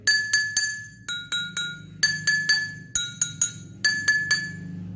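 Glasses holding different amounts of water are struck in quick groups of two or three, each bright ringing clink at its own pitch decaying briefly, close and clear with no speech.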